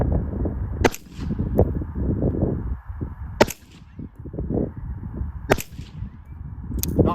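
Suppressed 5.56 rifle fired through a North Reach 9K suppressor with a 30 cal end cap outdoors: three sharp, loud cracks spaced a couple of seconds apart over a steady background rumble.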